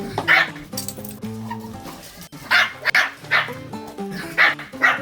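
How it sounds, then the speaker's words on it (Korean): A dog barks in quick, loud, close bursts, yapping repeatedly with short gaps between barks. "저 짖는 강아지 엄마 강아지입니다"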